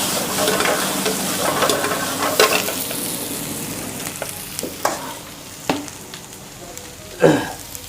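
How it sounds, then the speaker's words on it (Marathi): Onion and tomato frying in oil in a pan for Kolhapuri mutton fry, a steady close sizzle with scattered stirring clatters and a few sharper spatula knocks against the pan. "कांदा फ्राय झाला की टामॅटो टाकायचं टामॅटो जरा भाजून घ्यायचा"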